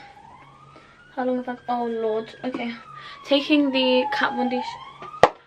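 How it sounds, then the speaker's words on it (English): A wailing emergency siren sweeps up and down in the background while someone talks over it in the foreground. "Sorry about the siren."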